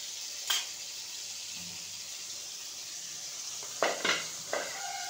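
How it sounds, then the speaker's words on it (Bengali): Bitter gourd pieces frying in a pan with turmeric and salt, giving a soft, steady sizzle throughout, broken by a few sharp utensil scrapes and clinks against the pan. "এবার এগুলোকে লাল লাল করে আমি ভেজে তুলে নেব।"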